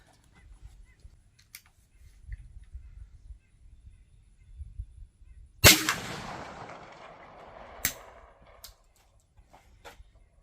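One loud gunshot from a shotgun firing a custom .410 slug handload cracks out mid-clip and rolls off in a long echo, followed a couple of seconds later by a second, sharper crack, over quiet outdoor background.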